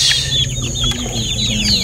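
Gamefowl roosters and hens at a breeder's farm cluck and call steadily, with thin high chirping birds overhead and a low steady hum underneath, fairly close and continuous.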